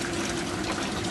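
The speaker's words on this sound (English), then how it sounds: "make sure that water's just pumping out of this something fierce" Water pumping hard out of a dishwasher drain line, a steady rushing gush of liquid that holds at an even loudness throughout the short stretch.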